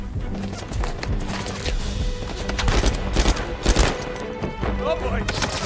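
Gunfire from an Uncharted 4 firefight: clustered bursts of shots crack over a dense, loud game soundscape, peaking in the middle, with talking layered underneath.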